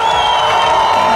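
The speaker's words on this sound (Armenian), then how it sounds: "դե հիմա պեսայի կողմն է ծափեր տալիս։" Wedding guests on the groom's side clap together in a dense, continuous burst of crowd noise with some cheering, loud and close.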